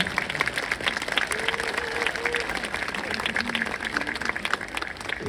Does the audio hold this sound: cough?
no